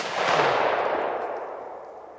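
A dense crackling burst of P1216 (FP3) firecrackers fades out over a couple of seconds, sounding somewhat distant.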